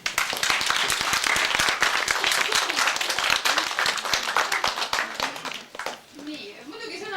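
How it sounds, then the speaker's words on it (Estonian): Applause at a village day gathering, dense sustained clapping from a crowd that thins and fades out near the end. "Teeme aplausi ka."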